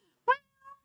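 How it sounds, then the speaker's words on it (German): A cat gives two short meows, the first loud and rising, the second softer and thinner, close by against a quiet room. "So, Gippi darf jetzt 20 Mal mauzen"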